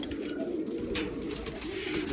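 Pigeons coo softly and repeatedly in low, throaty murmurs, close by, over a faint background hiss.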